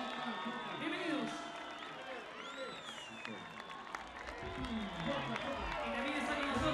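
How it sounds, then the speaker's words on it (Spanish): A crowd at a town festival applauding to welcome the president, a steady wash of clapping and cheering heard under loud amplified announcing and voices. "¡Fuerte las palmas! ¡Fuerte los aplausos!"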